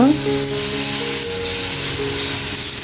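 Vegetables and pangas fish fry in a pan with a steady broad sizzle and hiss, close and loud throughout, while a voice or tonal sound rises faintly underneath.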